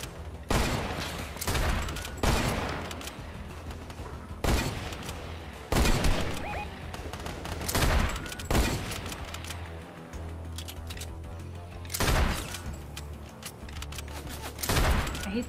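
Repeated heavy shots from a lever-action rifle in Fortnite, fired at uneven intervals roughly every second or two, loud and punchy over a steady game background with no talk.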